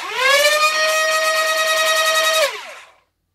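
Motorized flywheels of a modded Rayven foam dart blaster whir up quickly into a loud, steady high-pitched whine, hold for about two seconds, then brake and wind down abruptly into silence.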